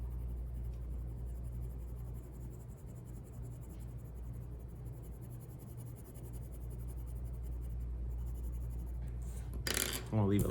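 Soft scratchy strokes of a colored pencil rub across paper, quiet and continuous over a faint low hum, with a brief louder clatter near the end.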